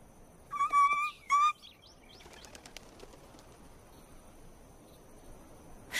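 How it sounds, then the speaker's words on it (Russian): Birds call in a My Little Pony cartoon, a few bright chirps near the start, then faint flutters and scattered soft ticks over a quiet background. "ваши птицы вернулись"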